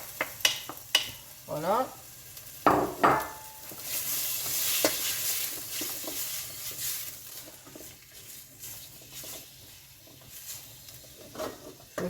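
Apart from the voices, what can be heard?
lardons and chopped onion frying in a pan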